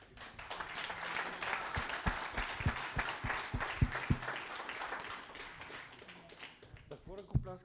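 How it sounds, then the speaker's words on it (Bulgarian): A church congregation applauds during a sermon, a fairly faint, uneven patter of clapping with a few sharp, louder claps standing out, and a voice speaks briefly near the end. "Какво ръкопляскате?"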